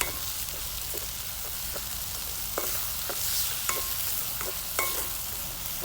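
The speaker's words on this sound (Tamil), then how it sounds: "நல்ல கொஞ்சம் தேங்காய் பாலும் விட்டு அப்படியே கொஞ்சம் பொரிய விட்டேன் நான் எண்ணெயில்" Eggplant curry frying in oil with a little coconut milk, a soft steady sizzle with intermittent clicks and scrapes of a spoon stirring the pan, fairly quiet and close.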